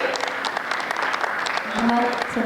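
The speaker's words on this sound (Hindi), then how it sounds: "एक बार जोरदार तालियां बजाइए" Steady applause from a poetry gathering audience, a dense patter of clapping with a few voices rising beneath it toward the end.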